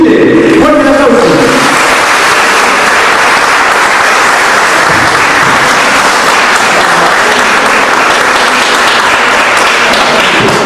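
A large audience applauds a Chilean folk ensemble, the Universidad Católica de Chile folk group, with dense, sustained clapping that fills the whole stretch at a loud, steady level and carries some murmuring voices underneath.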